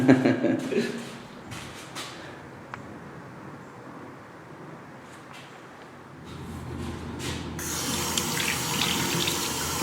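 Cold tap water runs steadily into a sink in a minivan campervan, growing louder and splashier toward the end, with brief clatters early on.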